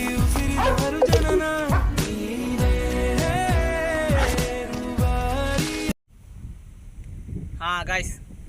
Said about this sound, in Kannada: ನೋಡಿ ಪಪ್ಪಿ ಪ್ಲೇಯಿಂಗ್ ನೋಡಿ,